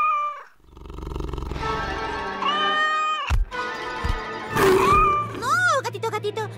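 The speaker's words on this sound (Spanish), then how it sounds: "¡Un gatito!" A kitten meows in a Spanish-language Polly Pocket animated cartoon, giving drawn-out, tonal cries with wavering pitch that repeat over several seconds, loud and close, alongside cartoon sound effects.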